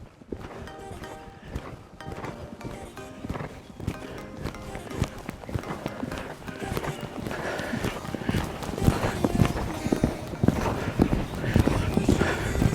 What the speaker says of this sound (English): Great canter